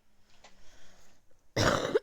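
A single loud cough bursts out near the end after about a second and a half of quiet background, close and abrupt, during a relaxed chat over a video game.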